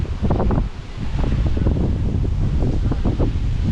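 Typhoon wind buffets the microphone in a loud, continuous rumble with fluctuating bursts and rustling.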